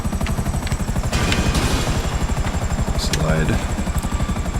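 Blue helicopters in GTA 5 during a gunrunning mission, a steady rhythmic rotor thump running throughout with a brief sliding whoosh and engine whine, while someone talks over it.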